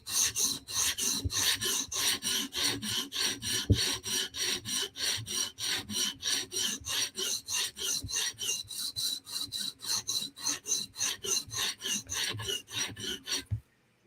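Rapid, evenly spaced rasping strokes of a knife sharpened on a Hapstone RS 150 grit stone, close and steady for about fourteen seconds before stopping abruptly, with no talking.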